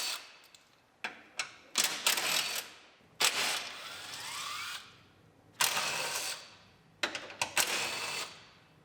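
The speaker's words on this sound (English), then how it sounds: "Now we can unbolt the front of the fender from the radiator support." Ratchet wrench unbolting the front of a fender from the radiator support on a 2019 GMC Sierra Denali 2500HD pickup, heard as several separate bursts of fast clicking at close range, with short gaps between them.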